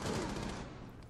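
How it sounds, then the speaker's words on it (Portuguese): In Rainbow Six Siege, a quick burst of gunfire rattles out, dense and loud at first and then fading over about a second. "Quem trocou tiro aí?"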